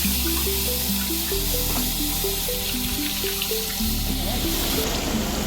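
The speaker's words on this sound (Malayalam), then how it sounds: "തേങ്ങാപ്പാൽ രണ്ടാം പാലാണ് ഇതിനകത്ത് വീഴുന്നത്" Second-extract coconut milk pouring into a pan for a jaggery-sweetened lehyam, a steady loud liquid stream running the whole time alongside an overlapping melodic tone.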